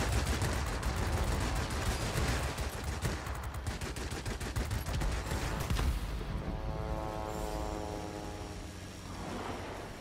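Rapid machine gun bursts crackle in a World of Warplanes dogfight, defensive fire from enemy bombers against a Yak-3 fighter, dense and continuous for about six seconds before an aircraft engine drone takes over and fades.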